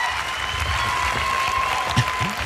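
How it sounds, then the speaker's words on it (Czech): A television talent-show audience applauds a volunteer from the crowd, with dense clapping throughout and a few voices on top. "Zatleskáme dobrovolníkovi z publika."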